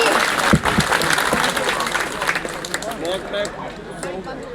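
Villagers clapping at a Congress party election rally in Chhatteana village, a steady burst of crowd applause under a voice speaking over the loudspeaker.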